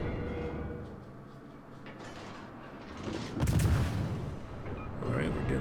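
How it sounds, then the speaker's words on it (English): Naval guns boom in a World of Warships battle with the French tier-2 destroyer Enseigne Gabolde, a heavy broadband blast midway over a continuous muffled rumble, with faint game effects around it. "Alright, we're getting some gun hits."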